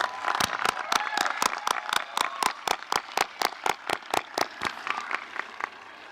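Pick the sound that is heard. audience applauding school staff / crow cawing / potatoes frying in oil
audience applauding school staff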